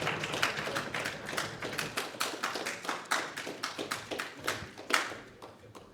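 Hands clap through a round of applause for a boxer being introduced at a boxing press conference: a small group's sharp, fairly close claps in an uneven rhythm, with a few louder slaps standing out.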